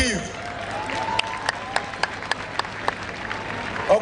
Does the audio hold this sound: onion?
no